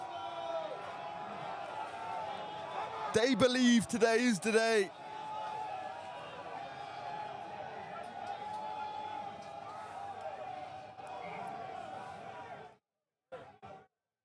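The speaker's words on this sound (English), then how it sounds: "And now the crowd really getting behind their men. You can hear the Belvedere voices." Belvedere supporters at an Old Belvedere versus Nenagh Ormond rugby match roar steadily from the stands as a far-off crowd, with a commentator talking over the noise before a brief dropout near the end.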